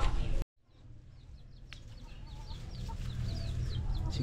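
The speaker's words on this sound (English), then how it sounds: "Chickens and chicks in there." Chickens and chicks cluck and cheep outdoors near a beach house, small scattered calls over steady wind and surf noise, moderately distant and fairly faint.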